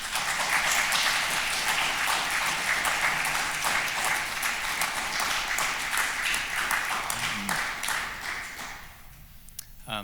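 A lecture audience at a University of Toronto engineering ethics event applauds to welcome a speaker, with dense, sustained clapping at steady volume that fades out near the end.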